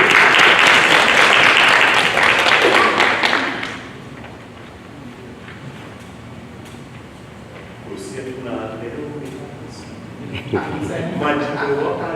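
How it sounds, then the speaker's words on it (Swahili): Loud audience applause at a Kenyan county event for Governor Peter Anyang' Nyong'o, a dense burst of clapping for about four seconds that fades out, followed by someone speaking over quieter room noise. "Mpige makofi."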